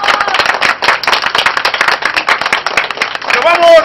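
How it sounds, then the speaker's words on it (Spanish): Circus audience applauding in the ring, a dense burst of many hands clapping loudly throughout, with a brief voice rising near the end. "entre nosotros le damos un aplauso"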